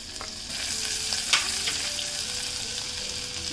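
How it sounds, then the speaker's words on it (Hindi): Chopped ginger and garlic fry in a pan with a dense, close sizzle throughout, plus a few light stirring scrapes and one brighter clink, with no one speaking. "अब ये जिंजर भी डाल देते हैं साथ में, 1 टेबल स्पून चॉप्ड जिंजर डालेंगे"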